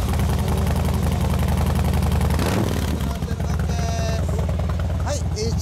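A Honda CBX RS motorcycle with an aftermarket Supertrapp exhaust idles with a deep, lumpy loping note, loud and close, with brief voices and a small mechanical clack partway through.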